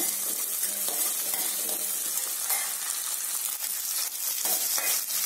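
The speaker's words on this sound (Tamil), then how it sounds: "இது ரெண்டையும் நான் வெங்காயம் பூண்டோட போட்டிருக்கேன் நல்லா வதக்கிக்கோங்க" Onion, garlic, mustard seeds, urad dal and chana dal are sautéed in a pan, producing a loud, close sizzle with rhythmic stirring scrapes and crackles that run the whole way through.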